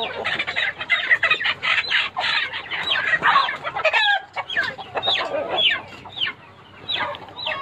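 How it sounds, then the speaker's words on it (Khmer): Yunnan breed chickens on a farm cluck and call in a dense, busy chorus, several birds close by producing overlapping clucks and short cries with no pauses throughout. "ហើយនេះក៏យើងពូជមាន់យូណានដែរ"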